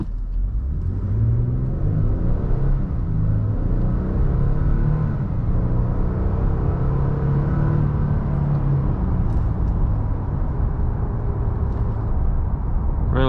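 Inside the cab of a 2024 Nissan Frontier Pro-4X pickup with a 2-inch leveling kit, a steady low road rumble and engine drone run evenly under the driving, with faint shifting engine tones and no voices.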